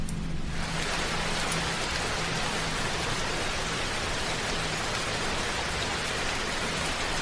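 Rain sound effect in a horror story narration: a dense, loud, continuous hiss of heavy rainfall, steady throughout with no voices.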